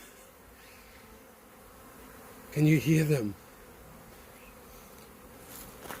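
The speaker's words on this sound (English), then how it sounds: "So I have 3 beehives here. Oh, you can hear them." Continuous low buzzing of many honeybees at three hives, about 30,000 bees, with a brief spoken question breaking in midway.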